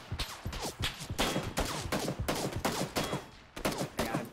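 Rapid repeated gunfire in the battle royale video game PUBG, a close burst of about ten sharp shots in uneven rhythm, loud and without talk.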